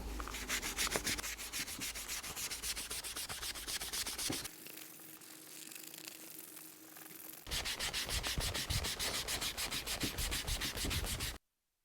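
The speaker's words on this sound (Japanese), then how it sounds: "布で磨いていきます。" A cloth is rubbed hard and fast over a shoe sole during handmade toe-copper shoe making, giving a steady scrubbing hiss. It is loud for about four seconds, eases into softer strokes, then turns vigorous again before stopping abruptly.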